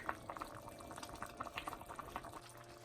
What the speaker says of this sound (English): So now my soup is boiling.